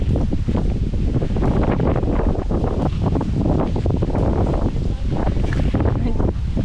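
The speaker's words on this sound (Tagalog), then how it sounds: "Ang hangin." Wind gusting steadily around an unfinished nipa hut, a continuous loud rushing roar with low rumble throughout, no clear pauses.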